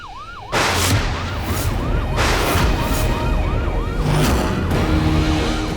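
A loud police siren wails up and down in repeated cycles over rumbling traffic noise, sounding close.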